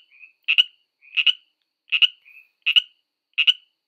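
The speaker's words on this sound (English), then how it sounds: "What does a Pacific tree frog sound like?" A Pacific tree frog calls in five short, two-part ribbit croaks spaced evenly, each sometimes preceded by a softer brief note, against silence.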